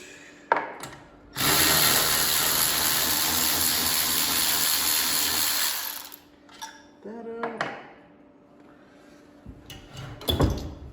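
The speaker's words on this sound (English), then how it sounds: "the Milwaukee electric ratchet M12 non-fuel is a good tool" A Milwaukee M12 3/8-inch cordless electric ratchet, the non-fuel model, runs in one loud, close whirring burst lasting several seconds. Scattered clicks and handling knocks come before and after it.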